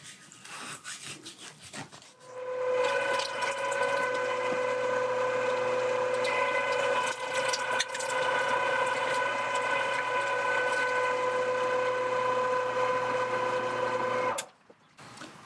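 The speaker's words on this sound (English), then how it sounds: "We'll run it through the grinder." A motorized meat grinder works through partially frozen pork butt with a continuous loud whirring hum and grinding drone. It starts after a few seconds of handling noise, runs steadily, then stops abruptly near the end.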